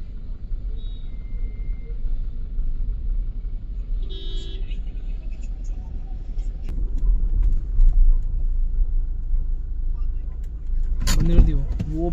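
A car reverses at a toll plaza: a low engine rumble builds and fades in the queue, with a short mechanical chirp early on and a sharp horn toot near the end, set among other traffic and voices.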